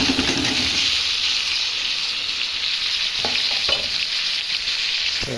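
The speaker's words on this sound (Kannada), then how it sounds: "ಸೊ ಈಗ 2 ಟೊಮೆಟೊ ಹಾಕ್ಕೊತಾ ಇದ್ದೀನಿ." Two tomatoes hit hot tempering for an egg curry and fry with a loud, continuous sizzle and hiss, broken by a few sharp stirring scrapes near the end, with no voices.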